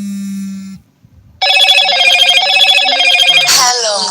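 A telephone rings loudly and close by in a rapid, buzzing electronic trill that repeats steadily, cut off at the end by a burst of other noise.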